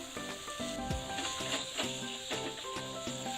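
Chopped medium tomato sautéing in a pan for idli kurma, a continuous bright sizzle with faint crackling, heard alongside background music with no voice.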